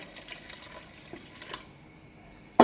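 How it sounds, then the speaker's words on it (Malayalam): Soft splashing of water being poured into a pressure cooker for a second or two, then quiet, ending with a sharp knock. "ഇതിനകത്തേക്ക് കുറച്ച് വെള്ളം ഒഴിച്ച് കൊടുക്കാം"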